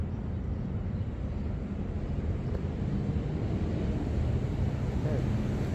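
A QAV 105 quadcopter drone flies FPV with its motors making a steady, unbroken whirring roar, mixed with wind buffeting at the microphone.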